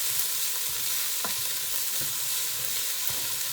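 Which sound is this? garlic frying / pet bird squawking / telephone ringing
garlic frying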